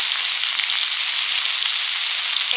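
Garlic paste, onion and green chili paste sizzle in hot oil as they are stirred into a frying dish, a steady, bright hiss that stays constant and close throughout.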